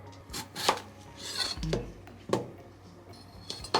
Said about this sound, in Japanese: so you cut the daikon in half and then you cut the daikon into quarters like this.